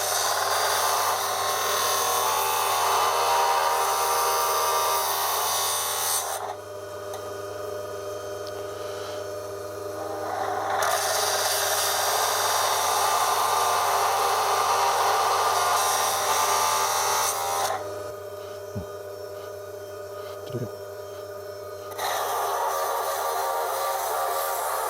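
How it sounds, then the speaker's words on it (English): A lapidary saw cuts through an opal stone in a steady, loud high-pitched whine, pausing twice to a quieter idle hum with a couple of brief clicks before resuming. "we'll saw this up now and just prepare this"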